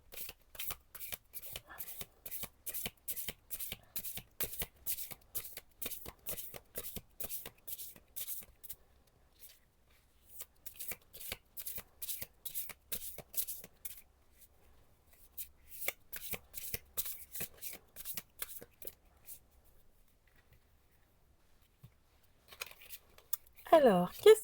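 Egyptian oracle cards shuffled in quick, repeated riffling bursts, with pauses between rounds and a short rustle near the end.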